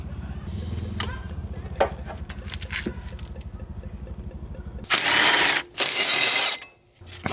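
Wrenching on the clutch fan of a 6.4 Ford dually truck during a Cummins engine swap, done without the special tool: steady rhythmic ratcheting clicks, then two loud, harsh bursts of hammering or air-tool noise near the end.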